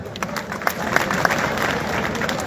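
A crowd claps steadily at an outdoor village wrestling bout, a dense patter of applause with a few sharper claps standing out.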